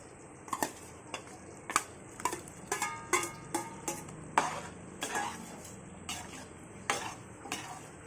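A spoon scrapes and knocks against a pan in an uneven rhythm of a dozen or so strikes, stirring paneer cubes into a thick, simmering butter masala gravy, with a soft bubbling sizzle beneath and no talking.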